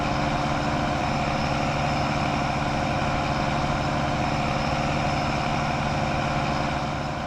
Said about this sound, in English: Now, this tractor is loud.